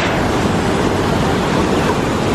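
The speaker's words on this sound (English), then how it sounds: "near the Huka Falls. It's a big waterfall." Rushing water at Huka Falls, a big waterfall near Taupo, heard as a loud, steady broadband roar that holds constant throughout with no talking.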